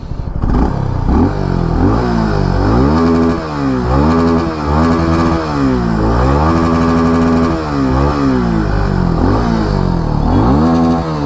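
A Suzuki V-Strom SX 250 motorcycle engine revving repeatedly, rising and falling in pitch in short bursts, loud and close throughout.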